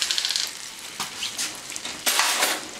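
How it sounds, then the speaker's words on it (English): Butter and mustard with lightly cooked garlic sizzle softly in a frying pan as a utensil stirs, scraping and clinking now and then against the pan. "Just stirring the butter and waiting for it to melt"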